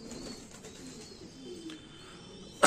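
Teddy pigeons cooing softly with low, throaty calls in a quiet setting, repeated murmurs through the stretch, ending with a brief louder rustle or flap.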